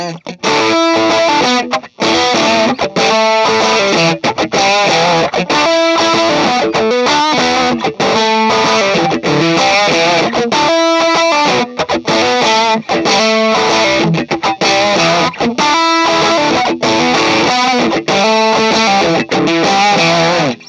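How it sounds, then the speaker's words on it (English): An electric guitar played through a THS Pedals F3 overdrive pedal, loud and saturated with heavy distortion, with a continuous stream of chords and notes. "I think it would make a great studio distortion pedal or a live distortion pedal"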